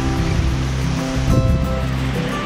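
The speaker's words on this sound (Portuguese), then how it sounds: "Tem esse riozinho aí que acompanha." A small river stream runs beside a hiking trail near Urubici, Santa Catarina, Brazil, giving a steady, continuous rush of flowing water with no talking.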